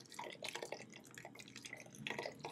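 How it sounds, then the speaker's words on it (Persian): Boiling water is poured into a pot of barley soup, heard as close, light splashing and dribbling with bursts of trickling liquid at the start and near the end. "آب جوش بهش اضافه میکنیم"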